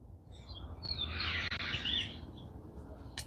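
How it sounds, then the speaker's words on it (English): Birds chirping and calling outdoors on a busy morning during corn planting, a bright warbling burst over a low rumble of distant traffic noise, moderately near. "the birds may get loud in a minute"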